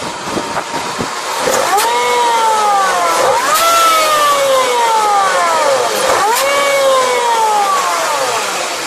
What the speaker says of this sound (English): So let's give it a rev, and you can see now that the flap works in conjunction with the throttle.